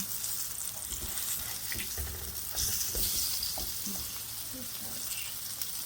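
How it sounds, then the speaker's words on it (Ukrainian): Syrniki made with zucchini sizzle and crackle steadily in oil in a heated frying pan, a close, continuous hiss with occasional pops and faint scraping as the pancakes are turned. "Викладаємо на розогріту сковорідочку, викладаємо інший. По мірі того, як сирнички рум'яняться, перевертаємо їх."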